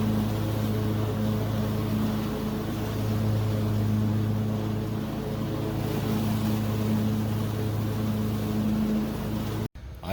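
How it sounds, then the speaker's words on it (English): A lawn mower engine runs steadily at close range, a loud constant drone with a strong hum throughout, cutting off abruptly at the end. "I'm gonna go mow the grass now"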